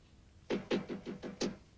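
Knocking on a door in a 1978 Spider-Man TV film, six firm, evenly spaced raps heard close and alone against a quiet room.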